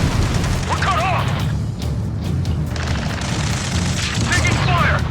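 Gunfire and explosions in the Ace Combat 7 video game: loud booms and crashing shots rolling across the clip, with short radio-style chatter chirps near the start and end.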